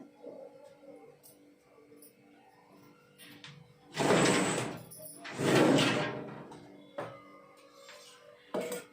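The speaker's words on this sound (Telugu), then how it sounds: "స్టవ్ ఆన్ చేశాను స్టవ్ మీద కుక్కర్ పెట్టుకున్నా" A pressure cooker set down on a stove in a home kitchen gives two loud metallic clunks about a second apart, over a quiet background with faint clatter before and a softer knock after.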